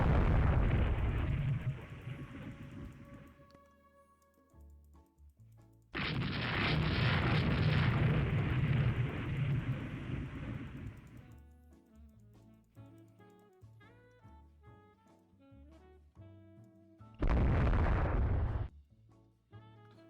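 Naval shells burst in Rule The Waves 3 as heavy, roaring explosions in three separate long blasts, each fading into ringing tonal game music between them.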